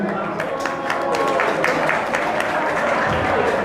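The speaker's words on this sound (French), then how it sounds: "je demande d'applaudir" Crowd applause at a youth rally in Mali calling for political parties to be dissolved, loud dense clapping with voices mixed in, steady throughout.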